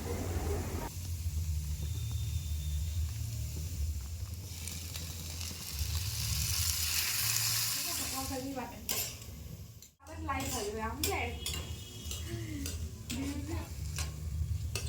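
Ingredients for Maggi noodles fry in a pan with a steady broadband sizzle, broken by stirring scrapes and clanks in the later half and a brief dip near the middle; background music or humming underlies it.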